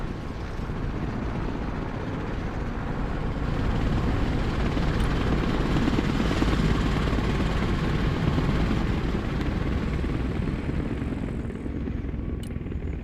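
A Mi-26 heavy transport helicopter in the Broken Arrow war game drones on in a continuous, dense rotor-and-engine roar, steady and loud for the whole stretch, with no voices over it.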